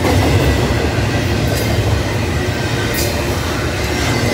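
A train on the old B&O line rumbles steadily along the tracks nearby at night, with a continuous roar and faint metallic squeals.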